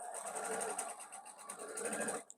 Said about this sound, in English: we're just going to sew down the length of the seam and sew right on top of the thread that we already have